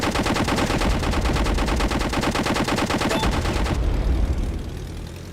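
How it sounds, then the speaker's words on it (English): Rapid machine-gun bursts fire at tanks in the Airfix Dogfighter flight game, a loud, fast, evenly spaced rattle for several seconds that stops abruptly, leaving a fading engine drone. "let's just shoot these tanks"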